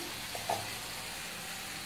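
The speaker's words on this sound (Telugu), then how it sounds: "ఇక్కడ దొండకాయ ఫ్రై చేస్తున్నాను" Ivy gourd (dondakaya) frying in a pan for lunch, a soft continuous sizzle with one brief stir or clink, quiet and close, no talking.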